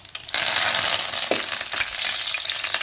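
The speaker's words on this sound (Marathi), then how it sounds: "आता कढीपत्ता घालते." Curry leaves drop into hot tempering oil with browned garlic, bursting into a sudden loud sizzle after a couple of soft clinks, then crackling steadily with a brief stir partway through.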